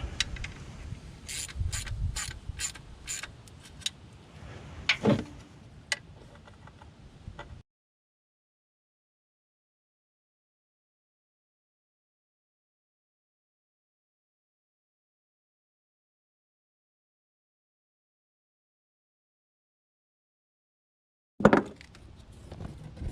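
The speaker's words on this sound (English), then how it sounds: "Now we can start tightening up from the center and work our way out." A ratchet tightening the oil pan bolts on a Nissan Altima gives a few quick clicking bursts and clanks, followed by a long silent gap and a brief final clatter.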